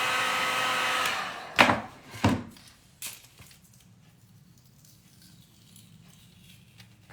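A heat gun blows steadily and loud for about a second and a half on a champagne bottle label, then cuts off, followed by a few sharp handling knocks and a quiet room.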